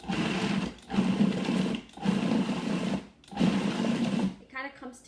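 A food processor pulses pitted dates in four loud, close bursts of whirring motor, each separated by a brief pause, ending with a short rattle as the blades stop.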